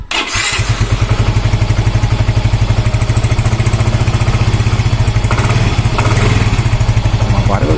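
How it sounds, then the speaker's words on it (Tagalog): A scooter engine idles after an oil change with 100% synthetic oil, a close, loud, steady putter with an even rapid pulse that barely varies, a brief rise near the end, and no talk over it. "pandarin po natin itong ating motor ng 3 to 5 minutes para makaikot po yung langis"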